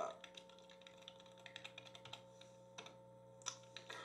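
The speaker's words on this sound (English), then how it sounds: "Type in a password." Quiet keystrokes tapping out a password on a computer keyboard, irregular clicks close by over a steady low hum, with a couple of slightly louder taps near the end.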